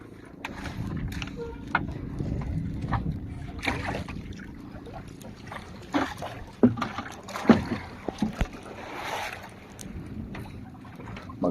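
Choppy water slaps and rocks a small wooden fishing boat out at sea, with low rumbling wash, irregular knocks and splashes, and wind in the background.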